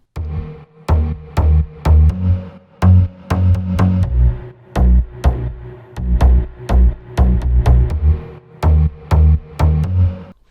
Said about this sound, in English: all the basses together sound like this